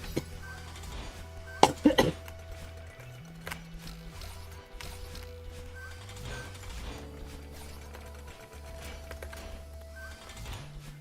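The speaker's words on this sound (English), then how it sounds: "I'm coughing so much today." A short cluster of close coughs bursts out early, over steady background music from the Strawberry Jam game that continues throughout.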